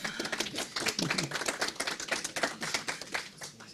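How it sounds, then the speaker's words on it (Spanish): Applause from an audience at an academic conference on Vietnamese studies, closing a panel of talks; uneven, moderately close clapping with some louder individual claps, continuing steadily with no voices. "despidámoslos con un aplauso"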